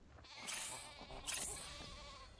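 Demonic Ovis, a modded sheep creature in the video game ARK (Eternal Gaia mod), lets out two short, fairly quiet bleats about a second apart.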